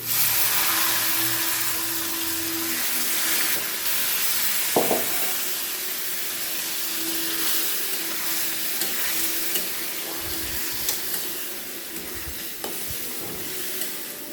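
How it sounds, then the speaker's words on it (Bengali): Garlic frying in a pan gives a steady, dense sizzle and hiss that runs unbroken through the whole stretch, close up, with an occasional faint clink or tap from a utensil. "এই রসুনটা আমি অতিরিক্ত ভাজবো না"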